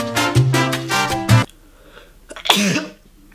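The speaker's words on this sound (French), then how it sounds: "C'est horrible quand on éternue" One loud, close sneeze bursts out sharply after a voiced buildup, followed by a brief sniff or breath in a quiet room.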